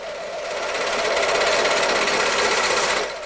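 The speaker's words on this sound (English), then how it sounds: "What's that? An electronic lawnmower." A remote-controlled electronic lawnmower runs with a rapid, buzzing mechanical chatter, loud and steady for a few seconds before cutting off.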